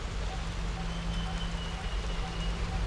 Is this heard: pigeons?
no